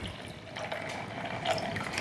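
Water being poured into a cup of ice in a home kitchen, a soft, steady trickling fill heard up close and fairly quiet, with no talking.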